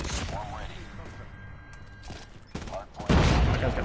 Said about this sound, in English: it's like a one or two burst gun